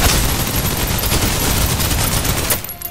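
Sustained automatic gunfire from a firefight in the video game Snowbreak: Containment Zone, a loud continuous fusillade of rapid shots with booming low end that cuts off abruptly near the end.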